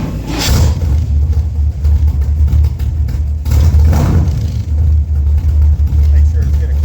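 A car engine starts and settles into a steady low idle, loud and close, with a person talking over the rumble.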